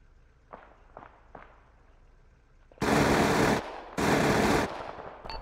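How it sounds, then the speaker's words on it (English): Automatic gunfire in the Arma 3 video game during a night co-op firefight: light distant shots at first, then two long, loud bursts of sustained fire close by, with a brief gap between them. "We're opening fire on those guys."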